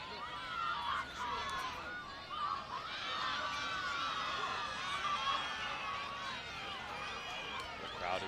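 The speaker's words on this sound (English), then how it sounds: "The crowd is loud, the crowd is up" A large crowd at a track meet cheers and shouts steadily before an 800 m race at the Louie Bing Finals, a loud, continuous roar of many voices with sharp cries rising above it throughout.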